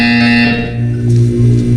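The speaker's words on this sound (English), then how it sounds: "When you hear the buzzer, look down at the floor." Loud electronic buzzer in Portal 2, a harsh steady tone with strong harmonics that shifts pitch partway through and pulses briefly at the end.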